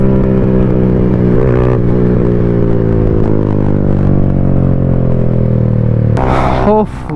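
A motorcycle on a road drones loudly and steadily with strong engine harmonics, then a sharp, crackling burst of exhaust backfire popping cuts in near the end.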